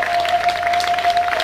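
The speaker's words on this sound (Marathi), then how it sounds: "सर्व मान्यवरांचं संस्थेच्या वतीनं जोरदार टाळ्या वाजून आपण या ठिकाणी स्वागत करूया" Audience clapping to welcome dignitaries at a student felicitation ceremony held by a Warkari gurukul ashram, a steady patter of many hands with a faint sustained tone running beneath it.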